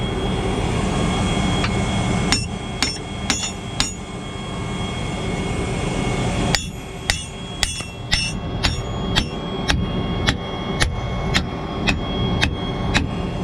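Sharp metallic hammer strikes ring out over a steady background hum, first a few scattered blows, then a rapid, regular series of hits.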